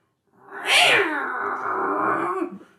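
A man imitates a cat with his voice, producing one long drawn-out meow that rises sharply and then holds as a strained, wavering yowl lasting about two seconds, close and loud with nothing else around it.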